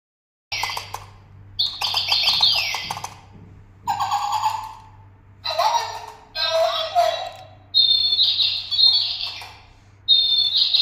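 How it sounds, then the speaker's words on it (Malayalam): Bright electronic chirps and tweets from a toy bird come in repeated bursts, with a low steady hum underneath. "ഇത് നിമ്മിയും ബർത്ത്ഡേക്ക് മാളുവിന് ഗിഫ്റ്റായിട്ട് കൊടുത്താട്ടോ കിളിക്കൂടും കിളി"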